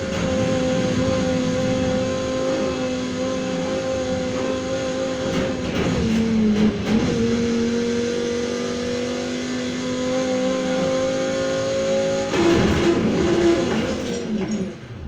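An Audi R8 V10 Performance '19 in Need for Speed Heat, its engine holding a continuous loud whine that steps up and down in pitch through gear changes, with steady road roar underneath and no voices.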